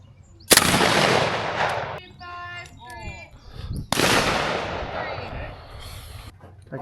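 A Browning Auto-5 shotgun fires at trap clays outdoors, two sharp loud blasts a few seconds apart, each with a ringing decay, with brief bird-like chirps in the gap between them.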